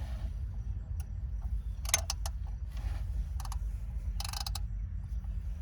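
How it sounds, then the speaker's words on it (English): Ratchet clicking in short bursts while turning the belt tensioner on a 2.4 Ecotec engine, close-up metallic ticks in a few separate clusters over a low steady background hum. "I'm going to get my ratchet up in there, and I'm going to find my tensioner"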